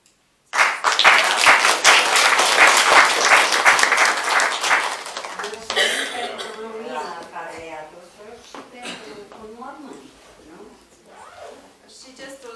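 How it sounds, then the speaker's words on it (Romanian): Audience applause at a centenary tribute event in Fălticeni, a dense burst of clapping that starts abruptly, holds loud for several seconds, then thins out and fades into scattered claps. "gestul spontan de a aplauda"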